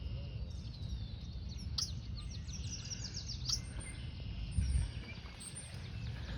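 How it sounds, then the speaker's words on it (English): Red-winged blackbird calls ring out at a distance beside water, short bright chirps and trills spread across the clip over a steady low outdoor rumble. "Oh, the red-winged blackbird."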